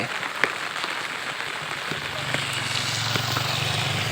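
Steady rain drums on surfaces outdoors while people, motorcycles and buses move along the road, a constant hiss with a few sharper drops and a low engine hum joining partway.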